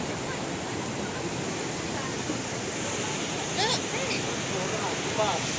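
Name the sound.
waterfall in the Brecon Beacons, Wales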